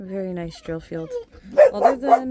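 Someone speaks briefly, then several dogs bark in quick succession nearby, sharp yips overlapping the end of his words.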